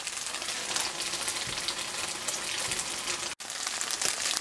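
Tofu sizzles and crackles steadily in a hot frying pan, fairly quiet, with a brief dropout near the end.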